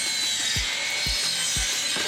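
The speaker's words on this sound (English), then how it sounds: "let's cut up our 1x12 or our 12-inch edge-glued lumber into 2 4-foot" A saw cuts 12-inch edge-glued lumber boards, giving a steady, loud whining hiss with three or four regular low thumps spaced about half a second apart.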